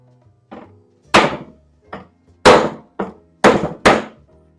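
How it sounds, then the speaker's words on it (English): Hand hammer blows drive pallet wood flush on a wooden apple crate, about seven sharp knocks in an uneven rhythm, a couple of light taps mixed with heavier close thwacks, with no talking. "And then we hammer it flush in."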